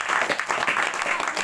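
Students at a tuition and computer centre clapping for a classmate's marks, a short burst of lively applause from a small group, close and fairly loud.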